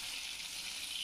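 Hilsa fish sizzle in hot oil in a pan, a steady soft hiss of frying close by, with no talk.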